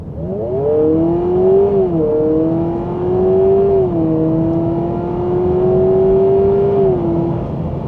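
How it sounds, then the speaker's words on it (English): A 2026 Honda Prelude accelerates in Sport Plus mode, its artificial engine note rising in a smooth, loud drone that climbs in pitch with short dips between shifts, heard up close inside the cabin. "the vehicle does give you nice artificial noise when it comes to the driving part of it"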